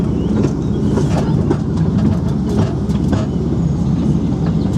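A passenger train at the Parc Bagatelle amusement park rumbles and clatters along its track, heard from on board as a loud, continuous roll with rhythmic clicks and faint background voices.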